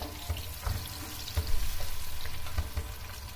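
Chopped onions frying in a pan, a steady close sizzle with occasional stirring knocks and scrapes, no voices.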